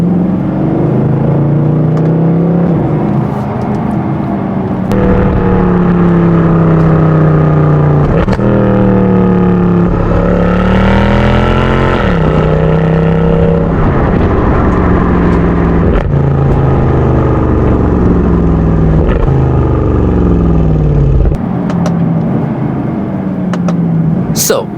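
Inside the cabin of a Mercedes-Benz W204 C63 AMG 507 with its M156 naturally aspirated V8, the engine burbles deep and loud, revving up and easing off repeatedly over about twenty-five seconds, with a voice talking over it.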